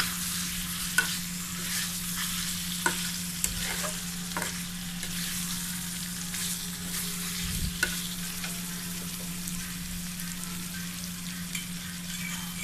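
Eggs frying with spices in a pan, a constant close sizzle broken by occasional sharp spoon scrapes and clinks as the mixture is stirred, with a low steady hum underneath.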